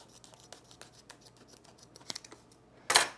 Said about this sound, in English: Come up here and cut off the excess.